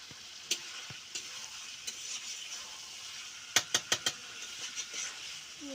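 Meat frying on a gas stove, a steady soft sizzle with a few sharp scraping or clattering knocks of a utensil against the pan, several clustered together near the middle, no talk.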